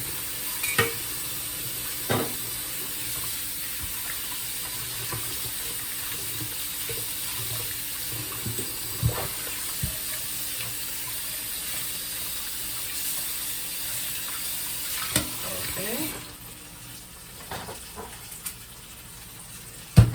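Tap water runs steadily into a kitchen sink as king fish is rinsed under it, a continuous close hiss with occasional light splashes and handling knocks, easing slightly near the end.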